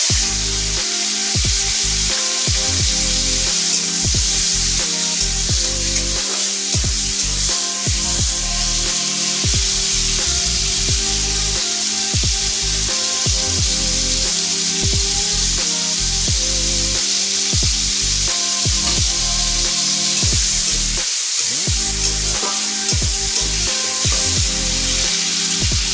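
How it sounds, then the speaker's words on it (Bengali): Prawns fry in hot oil in a wok, giving a loud, continuous sizzle and hiss. Low knocks and thumps recur irregularly throughout. "চিংড়ি মাছটা এখন ভেজে নেব।"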